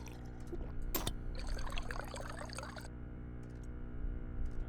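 Water being poured to top off a supply in the game Stationeers, a splashing trickle lasting about two seconds after a sharp click, over a constant low machine hum, with no talk.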